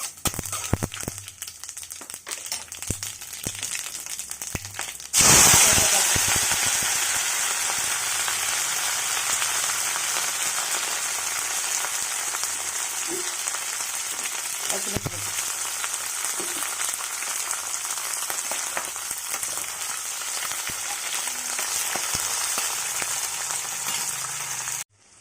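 Urad dal and cumin seeds sizzle in hot oil in a kadai, a sudden loud burst of crackling frying that settles into a steady, dense hiss lasting the rest of the time.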